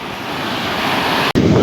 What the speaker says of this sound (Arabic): بصور لكم البحر